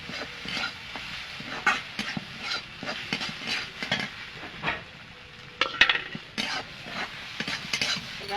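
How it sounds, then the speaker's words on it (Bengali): Ridge gourd korma with roasted cumin powder is stirred in a pan, a quiet low sizzle under repeated scraping and clicking strokes of a spoon against the metal. "ভাজা গুঁড়ো দিয়ে নাড়াচাড়া করে নেব।"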